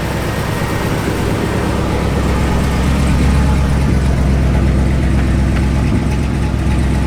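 A 1960 Chevrolet Impala engine idles with a steady, rumbling low drone that holds evenly throughout, loud and close.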